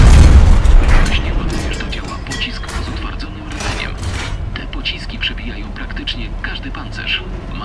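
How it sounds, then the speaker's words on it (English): A tank cannon in War Thunder fires with a heavy boom at the start, followed by mechanical clanks and crackles while a voice speaks over much of the clip. "I had to fire the previous round to reload"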